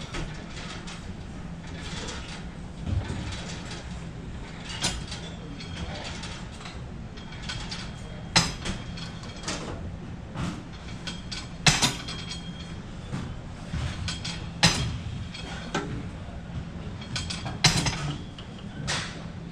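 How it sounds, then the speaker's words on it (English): A leg press machine works in a crowded gym on squat day, with repeated mechanical clanks, creaks and ratcheting thuds at irregular intervals over a low background hum. "the next exercise I'm gonna do is the machine leg press"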